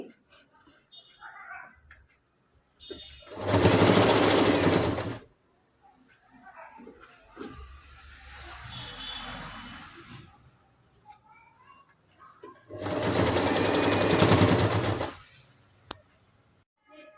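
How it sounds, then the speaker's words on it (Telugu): Sewing machine stitching small pleats into fabric, part of turning a kurti into a child's frock, whirs loudly up close in two bursts of a couple of seconds each, with talk in the quieter stretches between them. "ఇక్కడ చిన్న చిన్న ప్లీట్స్ పెడుతూ స్టిచ్ చేస్తున్నాను"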